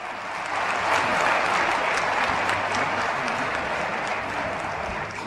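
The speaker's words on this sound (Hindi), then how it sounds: "जोरदार तालियों के साथ" An audience at a Madhya Pradesh government event with Chief Minister Shivraj Singh Chouhan breaks into sustained applause, a dense wash of many hands clapping steadily for several seconds.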